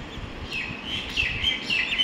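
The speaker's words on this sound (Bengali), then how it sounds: "বেশ অনেক দিন পর শালিক পাখির কিচিরমিচির শুনতে পেলাম" Myna birds chirp in the morning outdoors, a few short, fairly faint calls repeating over steady background noise with no talking.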